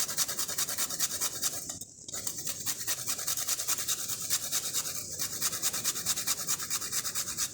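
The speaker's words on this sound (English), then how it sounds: "some grated nutmeg, freshly grated nutmeg," Fresh nutmeg grated by hand in a kitchen for a Jamaican dessert: a steady, rapid rasping scrape, close and continuous, with one brief pause, no talk.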